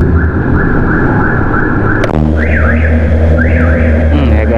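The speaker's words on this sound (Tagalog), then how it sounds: "Nag-a-alarm na naman." A car alarm blares close by on a city street, a steady repeating warble that switches to a faster rising-and-falling siren pattern midway, loud and continuous over traffic rumble, with no talking.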